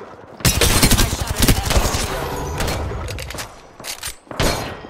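Rapid bursts of gunfire from the Apex Legends video game, loud and close, with dense broadband cracks rattling through the first few seconds, then scattered single shots and a final burst.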